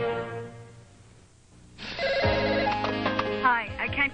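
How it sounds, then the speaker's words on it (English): A 1987 Panasonic telephone with answering machine rings in a TV commercial, with electronic trilling bursts starting after a soft musical lead-in and repeating loudly to the end. "It's your Panasonic telephone and answering machine with remote playback for when you can't get to your phone."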